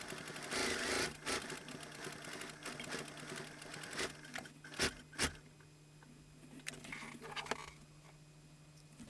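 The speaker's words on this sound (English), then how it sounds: "So I've sewn the top edges together" A sewing machine stitching the top edges of fabric together for a zippered pocket or pouch: bursts of rapid mechanical whirring, pausing and restarting, with a low motor hum underneath and a few sharp clicks.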